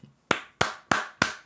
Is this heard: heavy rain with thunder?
no